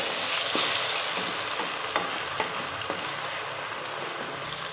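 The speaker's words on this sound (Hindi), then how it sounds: "अब इसमें अदरक लहसुन का पेस्ट ऐड करेंगे। इसको अच्छी तरह ब्राउन करेंगे।" Ginger garlic paste sizzles steadily in hot oil with browned onions, a dense continuous frying hiss broken by a few sharp pops and spoon stirs, close and loud with no talking.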